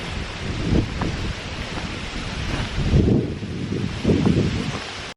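Strong wind after a typhoon buffets the microphone in loud, rumbling gusts that surge and ease several times, with no voices.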